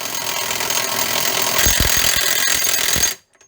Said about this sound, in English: Use this impact gun and just